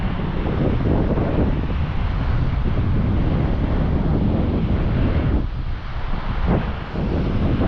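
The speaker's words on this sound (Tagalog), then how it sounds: "malakas yung hangin dito" Loud, steady wind at a beachside rest area in Michigan buffets the microphone, a constant roaring rush with a brief dip partway through.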